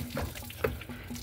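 Water drains from the lower radiator hose of a Cadillac DeVille during a cooling-system flush, a faint, close trickle with soft gurgles.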